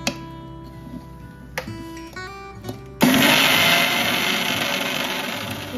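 Soaked mung dal is ground into a fine paste in a blender. The loud, steady motor whirr starts abruptly after some quiet clinking and continues without a break to the end.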